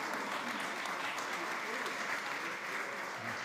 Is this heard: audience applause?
yes